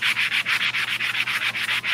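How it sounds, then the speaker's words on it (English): Sandpaper rubs back and forth along the painted edge of a wooden door hanger in quick, steady strokes, a close, continuous rasping with regular rhythmic pulses and no talking. "I'm sanding a little bit of this edge though, because I accidentally got that pink strip on there."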